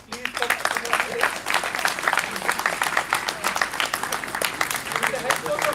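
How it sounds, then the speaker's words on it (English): An audience at a live cricket academy event applauds, a dense, steady patter of many hands clapping close and loud for several seconds, with a few voices mixed in. "So please, round of applause for him."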